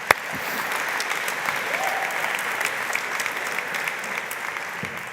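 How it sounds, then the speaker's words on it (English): Steady applause from a theatre audience for a volunteer joining a magician onstage at a TEDx event, moderately loud and continuous with scattered sharper claps throughout. "Let's give her a big round of applause."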